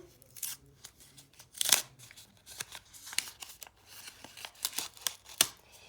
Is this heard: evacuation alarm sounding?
no